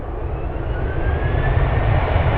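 A Boeing 737 jet airliner at San Francisco International Airport gives a loud, continuous low engine roar with a faint whine, steady throughout and heard alone without voices.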